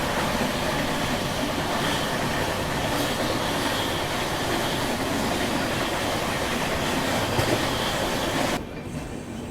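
Gyan Ganga Express passenger train on the Varanasi–Pune route, running at speed on rails with a loud, steady rolling rumble and faint rhythmic wheel clatter that drops away abruptly near the end.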